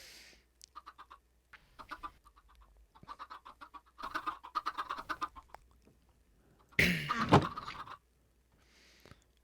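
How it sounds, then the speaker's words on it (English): Video game chickens cluck in short, scattered bursts at moderate volume, with one louder squawk near the end. "Oh, did you not know that we have an area of far too many chickens, Shauna?"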